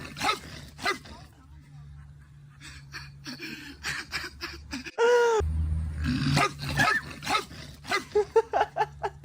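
A person imitates a dog, giving a few gruff barks and growly huffs in an Instagram Reel, with short bursts of voice and breathy sounds between brief pauses, fairly close to the microphone.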